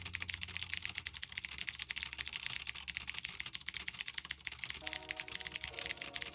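Rapid, steady typing on a clicky Cherry MX Blue mechanical keyboard, a dense stream of sharp key clicks close up, with no voices.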